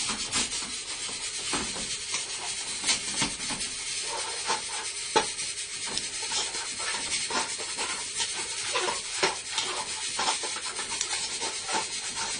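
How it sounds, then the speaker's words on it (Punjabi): A ladle stirs and mashes cooked dal in a pot, giving continuous close rubbing and scraping with small clicks and knocks throughout, with no talk. "ਹੁਣ ਆਪਾਂ ਕੜਛੀ ਘੁਮਾਵਾਂਗੇ, ਕੜਛੀ ਘੁਮਾਓ, ਚੰਗੀ ਤਰ੍ਹਾਂ ਅਸੀਂ ਮੈਸ਼ ਕਰ ਲੈਣਾ"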